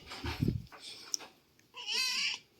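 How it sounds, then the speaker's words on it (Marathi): A pet cat gives a drawn-out meow near the end after some faint indistinct sounds, fairly close and moderately loud in a quiet room. "आपण म्हणतो मांजराला कळत नाही मांजराला बोलता येत नाही"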